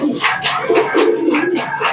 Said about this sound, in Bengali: একদম ফ্রেশ কোয়ালিটির কবুতর আছে।